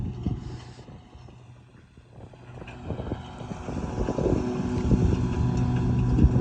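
A John Deere 5055E tractor pulls a 64-inch Channy straw reaper in the field, its engine droning steadily and building in loudness, with wind buffeting the microphone and no talk.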